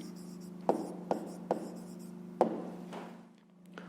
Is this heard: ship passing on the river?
no